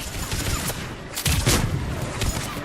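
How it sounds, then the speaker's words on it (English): Missiles fire in the video game Mass Effect 3, a loud salvo of booming blasts and rushing launches layered over dense battle noise. "Missiles are hot. Missiles away."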